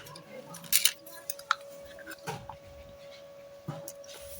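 A pressure cooker holding oil, onion, red chilli and salt is set on a kitchen stove, making a few close metallic clinks and clunks over a faint steady background hum.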